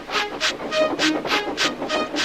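Thomas the Tank Engine runs along pulling his coaches, giving a steady, even rhythm of breathy chuffs close by, about five beats in two seconds.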